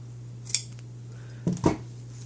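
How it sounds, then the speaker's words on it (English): Scissors cut fabric alongside a seam allowance on a costume with an invisible zipper. There are three crisp, close snips, one early and two in quick succession later, over a low steady background hum. "Just cut alongside."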